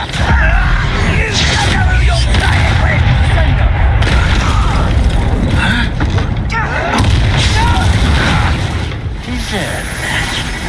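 A Confringo blasting spell in Hogwarts Legacy, heard as a loud, rumbling blast with booming bursts amid thick game combat noise that stays dense for the whole stretch, with a voice briefly present.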